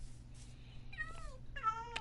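A cat in Minecraft meows twice, close and fairly clear, two short rising-and-falling calls over a faint low hum.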